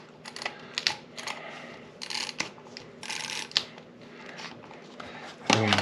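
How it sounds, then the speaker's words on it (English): Tape is carefully pressed and smoothed onto a fragile model, making close crinkling, clicking and rustling sounds in short irregular bursts with a louder thump at the end. "I'm just going to try to be very cautious because I don't want to damage him as I'm putting this tape on."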